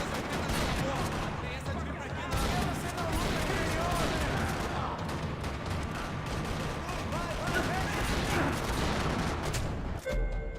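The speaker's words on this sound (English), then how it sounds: "Another parking lot rattling with gunfire." Dense, sustained gunfire in Max Payne 3 during a parking lot shootout, rapid overlapping shots and bursts rattling continuously at loud level for several seconds.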